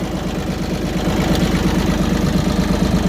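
A heavy diesel tractor engine idles with a steady, rapid low thumping rhythm, close and loud, rising slightly in level partway through.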